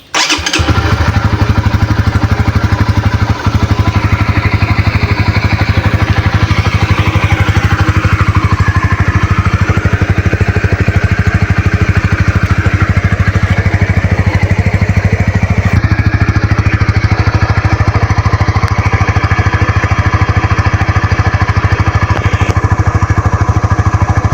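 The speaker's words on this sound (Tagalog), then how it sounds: "Start natin yung motor para ma-circulate yung bagong langis na nilagay." A Honda Winner X motorcycle engine idles loudly and steadily after a brief start, freshly refilled with Delo Gold oil, its running drone continuous with no voices.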